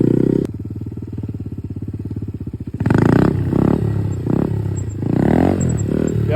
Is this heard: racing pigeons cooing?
no